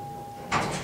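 Elevator doors sliding shut on a car fitted with a Reflex 3.14 leveling system, a brief broadband rush that starts midway after a quiet hum with a steady tone, close and moderately loud.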